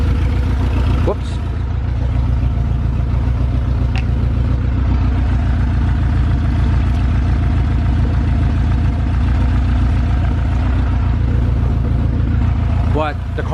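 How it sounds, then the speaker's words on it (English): A Honda B18C1 engine swapped into a wagon idles steadily and close up, a low rumbling drone with faint clatter running the whole time, joined by brief squeaks near the start and end. "But the car is idling"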